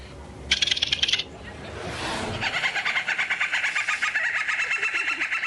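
A young girl imitates a seagull with her voice: a burst of shrill, rapid pulsed squeals, a rising swoop, then a longer run of high, rhythmic squawking cries, close and fairly loud.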